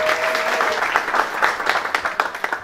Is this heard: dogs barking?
no